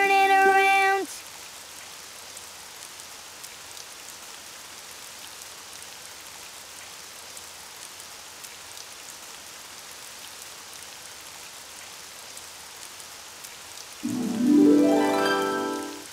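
Rain falls outside in a soft, steady hiss that runs on evenly, with brief musical tones and a voice-like sound at the start and end.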